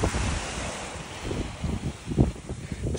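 Gulf of Mexico waves wash onto a soft-sand Florida beach, a steady surf rush mixed with wind buffeting the microphone, with no voices.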